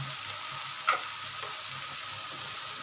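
Taro greens (kochu shak) cooking in a kadai wok give a steady soft sizzle throughout, with a single brief clink of a utensil near the start.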